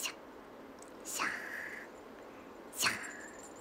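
A person's voice imitates a cat's hiss, giving two breathy, airy hisses about a second and a half apart, close and fairly quiet against a faint background.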